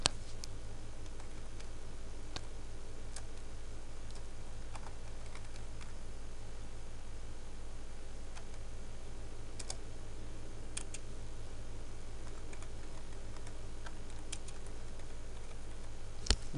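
A computer keyboard is typed on in quiet, irregular patters of soft clicks over a low steady hum, with no talking.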